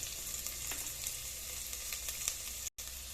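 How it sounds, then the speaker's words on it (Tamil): Onions sauté in a pan with homemade puliyodharai masala, giving a steady, close sizzle throughout with a brief break near the end. "ஈஸியாக நம்ம வந்து வெங்காயத்தை வதக்கிட்டு கூடவே இந்த நம்ம வீட்டில் வச்சுருக்க புளியோதரை மசாலா போடலாம்"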